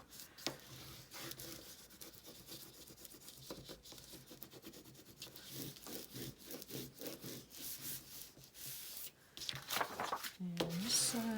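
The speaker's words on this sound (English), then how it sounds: "I think it could use my bone folder to burnish." A bone folder burnishing paper in a handmade journal makes soft, continuous rubbing and scraping strokes close by, faint overall, with some quiet vocal sounds mixed in.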